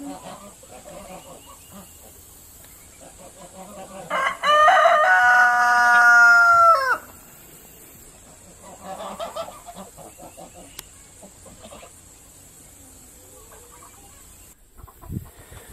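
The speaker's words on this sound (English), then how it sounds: "So this is after we let the geese out." Geese let out outdoors give one loud, drawn-out honking call for a couple of seconds. Quieter honks and clucks follow over faint outdoor background.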